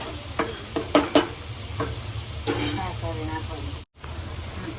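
Leftover flatbread simmering in a thick buttermilk curry in a pan gives a soft, steady bubbling sizzle, with a few sharper clicks and stirring scrapes near the start and a brief dropout near the end.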